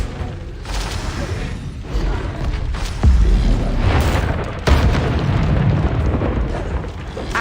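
Confringo blasting spell explosion in the video game Hogwarts Legacy, with heavy booming bursts and crackling rumble that swell and hit again partway through, loud and close.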